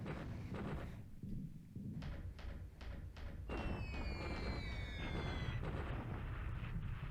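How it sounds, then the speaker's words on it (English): Anti-aircraft flak during a bombing raid on Calcutta in War in the Pacific, a run of repeated heavy thuds and booming bursts, followed by a rising whistle over a continuous rumbling din. "Flak is very heavy there today."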